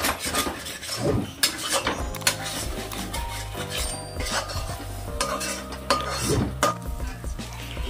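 Two cracked eggs are stirred into masala in a hot pan, close scraping and clattering of a spatula against metal with a soft sizzle underneath, in repeated strokes.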